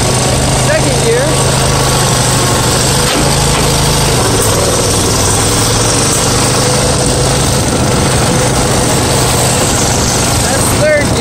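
Tractor engine running in second gear after a stuck clutch and seized engine were freed, a loud steady low drone with a faint pitch shift partway through, continuous and close.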